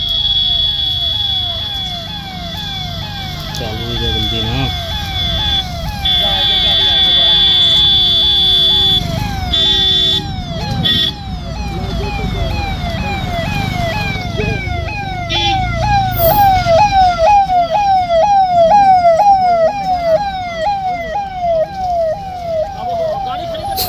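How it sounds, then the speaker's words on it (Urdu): An ambulance siren wails loudly and continuously, its rising and falling tones repeating for over twenty seconds over a bed of street noise, with people talking underneath. "تھوڑی دیر کے لیے اس کی ایمبولینس کا جائزہ دیکھ لیجئے گا"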